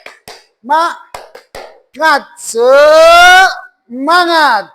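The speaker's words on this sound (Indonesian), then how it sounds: "Misalnya saya ambil contoh tepuk semangat" Sharp, rhythmic handclaps of the Indonesian classroom "tepuk semangat" spirit clap, a few crisp claps alternating with a loud voice chanting close by.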